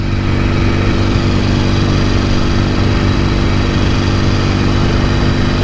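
A 1968 Norton Commando motorcycle engine, freshly restored and still running in, idles steadily and loudly close by with an even, throbbing note that holds constant throughout, with no voices over it.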